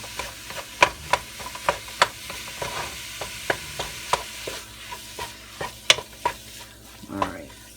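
Ground pork cooks in a pan, sizzling steadily close by while a utensil scrapes and taps against the pan in a loose, repeated rhythm.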